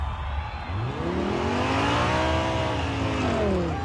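Several muscle car engines, a Camaro among them, race at a street drag meet, loud rising and falling revs with overlapping pitch sweeps and some tire noise, a dense steady roar throughout.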